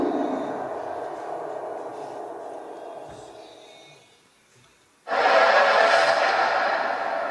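Cinematic trailer hit sound effects heard on their own for a fantasy trailer: a booming, reverberant impact tail decays into near silence, then another loud, dense hit bursts in and rings out.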